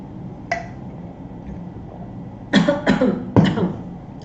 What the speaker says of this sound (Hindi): जल्दी से पानी पीने के चक्कर में अक्सर खांसी आ जाती है मैम को